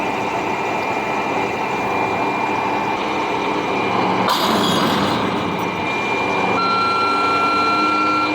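A trailer truck idles nearby at a boatyard where a crane is struggling to lift a container beside a large yacht hull. A constant loud engine rumble is joined by thin tonal beeps and a brief louder clatter midway.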